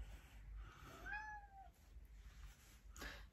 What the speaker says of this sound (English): If you hear the meowing, that is my cat.